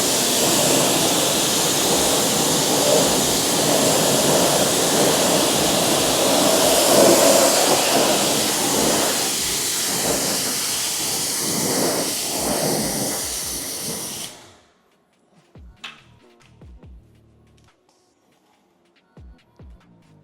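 Water spraying to rinse a freshly coated car and its rims, a loud, steady hissing rush for about fourteen seconds that cuts off abruptly, followed by scattered faint drips and small knocks.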